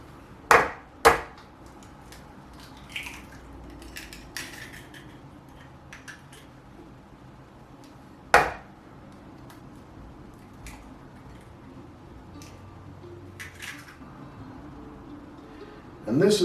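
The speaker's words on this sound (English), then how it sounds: "got to get the eggs cracked and in there" Eggs crack against a bowl rim and drop into buttermilk, several sharp, close taps spaced apart with quiet shuffling between, while a person talks intermittently.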